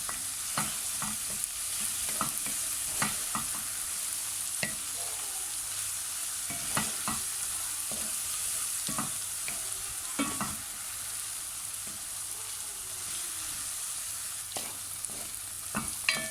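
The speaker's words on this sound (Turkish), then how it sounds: "3-4 dakika soğanlarımızı kavurduktan sonra" Onions frying in a generous amount of oil for chicken tantuni, a steady close sizzle and hiss throughout with frequent spatula scrapes and taps at an uneven rhythm, no voices.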